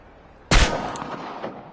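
A single sharp pistol shot cracks out loud and close at a target range in the game Chernobylite, then trails off in a short echoing decay with no talking.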